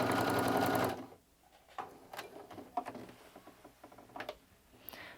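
A sewing machine stitches back and forth to reinforce a quilted bag strap, with a loud continuous run at the start, then quieter short bursts and clicks of handling close by.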